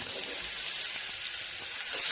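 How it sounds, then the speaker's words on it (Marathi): Pieces of ridge gourd fry in hot oil in a home kitchen pan, giving off a steady, close sizzling hiss that holds evenly for about two seconds with no voices. "भांड्यामध्ये तेल, यामध्ये आता हे दोडक्याच्या फोडी"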